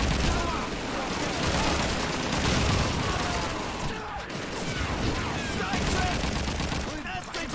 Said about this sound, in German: jetzt ein gezielter Schuss